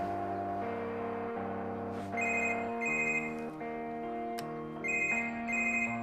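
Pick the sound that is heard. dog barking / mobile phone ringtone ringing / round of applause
mobile phone ringtone ringing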